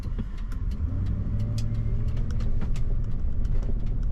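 A vehicle with a rebuilt Ford 5.4L 3V engine drives along, a loud steady low engine drone and road rumble filling the cabin continuously, with light rattles and clicks over it.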